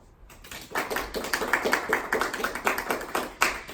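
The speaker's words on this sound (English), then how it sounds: "Let's give her a big round of applause" A small audience claps after a student's informative speech. The clapping is steady and rhythmic and moderately close, building quickly and continuing evenly for several seconds with no voices over it.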